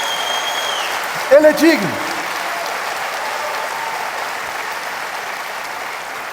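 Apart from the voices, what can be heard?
audience applause in church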